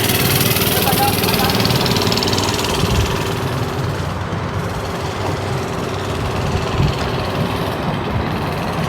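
Small mini bike engines run at a race during a van meet and car show, a continuous mid-pitched engine drone in the near distance amid outdoor crowd noise and some talking.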